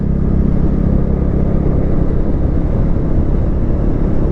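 Modenas Dominar 400 motorcycle being ridden, its engine giving a steady, loud, low rumble with wind noise and no break, heard close from the rider's position.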